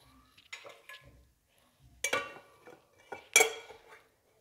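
An ordinary plate is handled while a rice and bean dish is prepared, giving several separate clinks and clatters of dishware close by, with quiet pauses between them and no talking.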